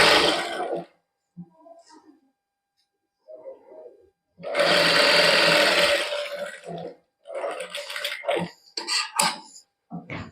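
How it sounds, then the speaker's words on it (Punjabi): A sewing machine runs in short and longer bursts of rapid stitching while basting a seam with lace for a boutique garment, close and fairly loud, broken by quiet pauses and a few softer handling noises. "ਕੱਚੀ ਸਲਾਈ ਆਪਾਂ ਲਾ ਲਈ"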